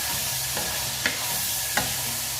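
Pork sizzles steadily while frying in a pan, a constant loud hiss broken by a few sharp scrapes and taps of stirring.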